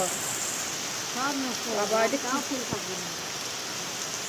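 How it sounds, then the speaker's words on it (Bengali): Heavy rain lashing down during a storm in a village, a dense, steady hiss that runs without break, with a person speaking briefly over it in the middle. "শুধু বৃষ্টি না সাথে ঝড়ও দিচ্ছে দেখো কি অবাস্ত ঝড়"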